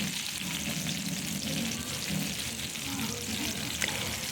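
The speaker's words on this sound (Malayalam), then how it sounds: "ഇതാ എടുത്തിട്ട് ഓരോ ടൈമിൽ ഇങ്ങനെ പൊരിച്ചെടുക്കുന്നുണ്ട് കേട്ടോ" Spiced chicken pieces, seasoned with chilli and salt, deep frying in hot oil, giving a steady, dense sizzle and bubbling that runs throughout at close range, with no talking.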